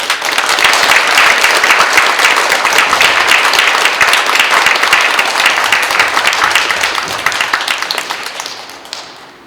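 Loud, sustained applause from a church audience greets a guest lecturer at an Advent talk in a Geochang Catholic church, many hands clapping steadily for about nine seconds before tapering off, with no talking.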